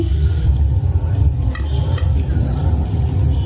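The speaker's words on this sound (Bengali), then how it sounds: "পেঁয়াজটা লাল করে ভেজে নিচ্ছি" Sliced onions with a pinch of salt fry in oil until they brown for a hilsa-bone taro greens dish. A continuous close sizzle and light stirring hold steady, with no one talking.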